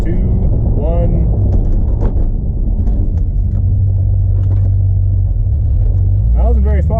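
A Chevrolet Corvette C6 brakes hard from 55 mph, heard from inside as a loud, steady low road-and-tyre rumble with engine drone that gradually eases. A person speaks briefly near the start and end.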